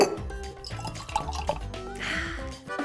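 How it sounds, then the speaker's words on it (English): Skim milk pours into coffee in a cartoon-style liquid effect, a short burble of drips and glugging that ends in a brief splashy fill, fairly quiet. "Last, we'll add some skim milk to keep it lean."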